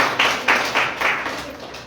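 Clapping from a church congregation at an evening service comes in a brief run of about four loud, rhythmic claps in unison, close by and alone.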